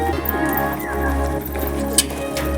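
Domestic pigeons feeding, with soft low cooing that runs throughout at close range over a steady background hum.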